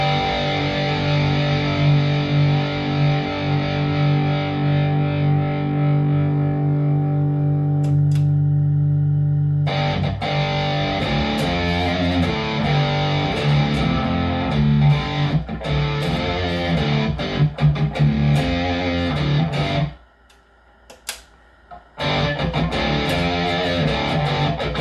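Electric guitar played through a Tube Screamer pedal with the level cranked and gain pulled down, pushing the amp into moderate distortion; sustained chords give way to choppy riffs and a brief silent gap, loud and without talk.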